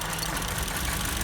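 Car engine running rough with one cylinder cut out, a close, continuous uneven idle with a low rumbling, stumbling beat through the whole short stretch.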